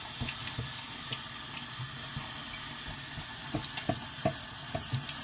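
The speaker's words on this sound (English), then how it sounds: "you get your sponge really saturated with water. And you just pad that all over your wood with the old velvet lining" A water-saturated sponge is padded over old velvet lining on antique wood, giving a steady wet trickling wash with soft, irregular dabs and squishes close by.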